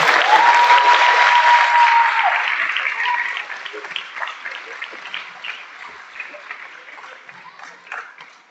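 Applause honoring a group of retiring staff at a school district board of education public meeting, a loud room-filling burst of many hands that gradually thins into scattered claps, with a brief tone and some murmuring voices.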